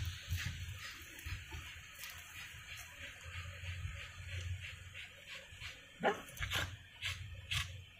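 A dog outdoors gives a few faint barks and whimpers against a low, rumbling background, with one sharper yelp near the end.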